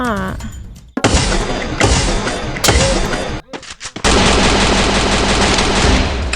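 Rapid bursts of automatic gunfire from the Free Fire battle game, loud and dense, breaking off briefly around the one- and four-second marks before resuming as sustained rattling fire.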